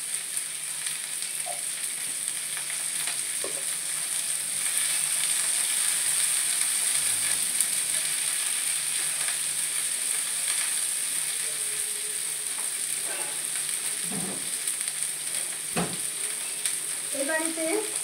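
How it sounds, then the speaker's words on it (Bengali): Carrot and cauliflower sautéing in a little ghee for a curry, with a continuous even sizzle and occasional clicks and scrapes from stirring, with no speech. "একটুখানি মানে হালকা করে গাজরটা একটু সটে জাস্ট করে নিতে হবে"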